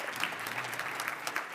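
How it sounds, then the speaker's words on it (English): Brief burst of audience applause in a lecture hall, dense scattered clapping from a crowd at moderate distance. "she deserves a round of applause"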